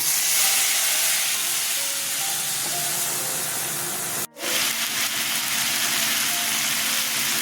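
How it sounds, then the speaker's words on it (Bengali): Steady loud sizzling hiss of ginger, chili and tomato paste hitting hot oil in a pan while cooking a Bengali Bata fish curry, briefly cut off once before the frying noise resumes. "আদা লঙ্কা টমেটো পেস্ট ছেড়ে দিচ্ছি"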